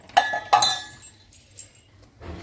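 A spoon stirs rice flour and water together in a bowl for rice fryum batter, giving a handful of sharp close clinks against the bowl with soft scraping between them.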